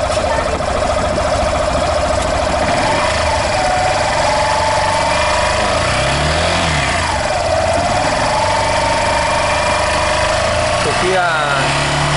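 A 2019 Yamaha Fazer 150 motorcycle engine, which is not charging its battery, idles and is revved lightly, its mid-pitched hum holding close and loud while people talk over it.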